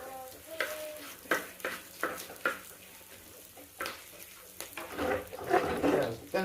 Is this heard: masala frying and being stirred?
yes